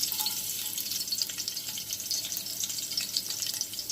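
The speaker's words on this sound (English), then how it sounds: "here I have my oil that has been heated. So I'm going to add some garlic." Garlic dropped into hot oil for Jamaican-style curry turkey neck, giving a dense, steady hiss of frying, close and even throughout, with no voices.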